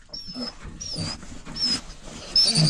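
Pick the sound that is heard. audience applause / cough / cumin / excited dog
excited dog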